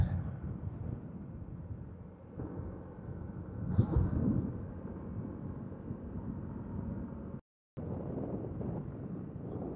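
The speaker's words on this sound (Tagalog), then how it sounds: "Sobrang lakas ng hangin, hirap na hirap yung motor" Strong headwind buffets the microphone on a motorbike climbing uphill on a road in Mindoro, a loud, rumbling, gusty roar that swells and fades without pause, broken only by a brief dropout.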